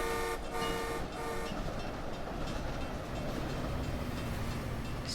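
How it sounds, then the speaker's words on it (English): A commuter rail train on the MBTA Providence/Stoughton line rolls past steadily, heard from a car driving on a nearby road at highway speed, with a horn toot near the start and continuous rumbling rail and road noise throughout. "Just watching that train go by from the road"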